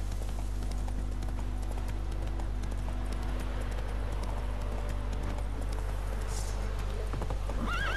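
Roach the horse in The Witcher 3 video game, with rapid rhythmic hoofbeats over a constant low hum, tones from the game soundtrack and a short whinny toward the end.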